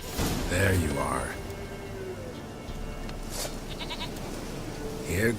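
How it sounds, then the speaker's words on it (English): Goat bleating in The Witcher video game, a wavering cry early on and another near the end, heard over a dense game soundscape with talking. "Here, goat."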